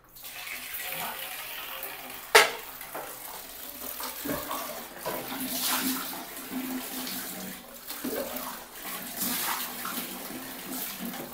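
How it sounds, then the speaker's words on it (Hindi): Water runs into a toilet bowl after cleaning, a steady, moderately quiet splashing flow with a sharp knock early on and uneven gushes throughout. "पानी चला देता हूँ।"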